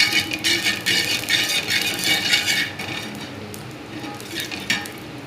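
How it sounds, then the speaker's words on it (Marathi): Pav bread warming in butter on a hot pan for Mumbai-style butter pav bhaji: a loud close sizzle with scraping and stirring of a utensil, easing off midway into a quieter fry. "आता मी पाव गरम करायला घेते."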